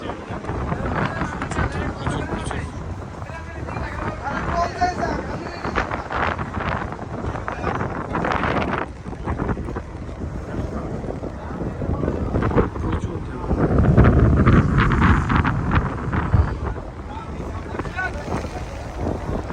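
Strong monsoon waves on the Padma river heard from aboard a ferry carrying buses: constant rushing water and wind buffeting the microphone, with a heavier surge near the end and voices now and then.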